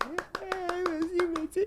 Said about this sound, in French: Applaudissement de podcast.